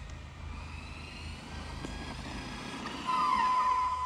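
Arrma Outcast 4S RC car with a 4074 2200KV motor, Max8 controller and center differential, driving with a quiet, steady motor whine over outdoor ambience, growing slightly louder and higher toward the end.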